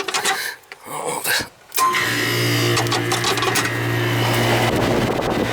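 An old Goodman air conditioner that has just been repaired kicks on with a sudden steady hum and rattling mechanical whir, following a moment of talk and quiet.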